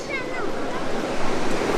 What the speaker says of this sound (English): That is the waterfall, everyone.